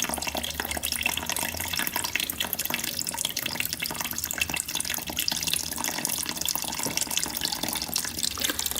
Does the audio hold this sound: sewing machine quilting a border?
no